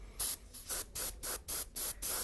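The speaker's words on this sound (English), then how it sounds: "We're spraying about 25 psi to get to make sure we got some good coverage on this." An airbrush sprays paint onto a scale model car at about 25 psi, giving a series of short, even hissing bursts in a regular rhythm, close and fairly quiet.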